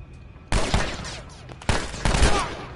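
Gunfire in the video game The Last of Us: two sudden loud volleys of rapid shots, each ringing out and trailing off, with a brief lull between bursts.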